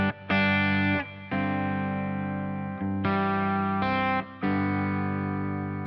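An electric guitar runs through a BK Butler Tube Driver pedal set for light drive. Sustained, gritty chords ring out one after another, each held for a second or two before the next strum, with no talking.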